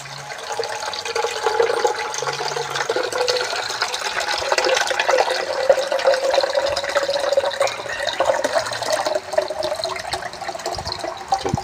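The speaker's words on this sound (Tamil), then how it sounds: "இப்போ கூழ் தண்ணி இருக்குது இந்த தண்ணியை வந்து இதுக்குலாம் ஊற்ற போகிறோம்" Porridge water is poured while a cool summer drink is made, a steady splashing trickle of liquid that runs close and continuous without talk.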